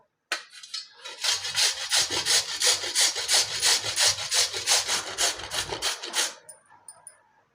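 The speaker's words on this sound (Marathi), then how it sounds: "याची साल काढून घेऊया तर बीट पा सोलून घेतलेला आहे तर आता आपण तो किसून घेऊया" Peeled beetroot is grated by hand, a steady run of rhythmic rasping strokes, about two per second, loud and close for several seconds before stopping abruptly.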